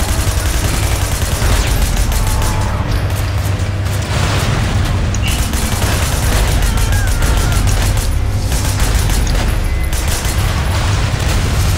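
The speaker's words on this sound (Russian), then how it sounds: "Вау, вот это взрыв." Loud, dense video game combat in Sleeping Dogs, with booming explosions and continuous rapid gunfire packed together with no letup.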